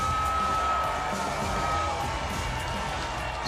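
A fight crowd roars for Alex Morono at a Legacy Fighting Championship mixed martial arts event, a dense, steady wash of cheering and shouting that fills the arena for the whole moment.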